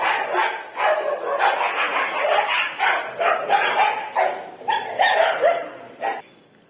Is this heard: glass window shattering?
no